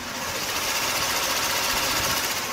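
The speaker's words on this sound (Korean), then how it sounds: "역시 V6 GDI 엔진답게 정말 정숙하고 깔끔한 엔진 사운드까지 잘 들려주고 있는 모습이고요" A Genesis EQ900 flagship sedan with a 3.8 V6 GDI engine running at idle, giving a smooth, even, continuous hum with a faint fine ticking texture and no talk.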